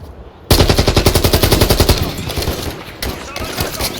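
Loud, close automatic gunfire from a Call of Duty: Modern Warfare 3 campaign mission fires in fast, evenly spaced bursts, pausing briefly before another short burst.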